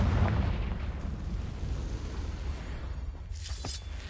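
A Confringo spell explodes in Hogwarts Legacy, a deep booming blast that opens loud and rumbles away over several seconds, with a sharp crackling burst near the end.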